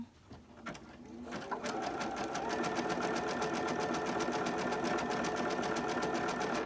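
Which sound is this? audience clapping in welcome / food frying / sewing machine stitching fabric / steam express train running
sewing machine stitching fabric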